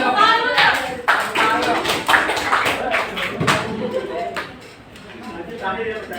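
Students in a classroom during a teaching practice session give a short burst of clapping, with a few scattered claps fading out under lively talk and chatter.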